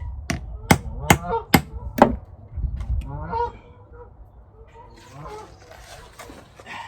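Geese honk nearby in a few drawn-out calls, mixed with a run of sharp, evenly spaced knocks from work being done close at hand; quieter honking continues after the knocking stops.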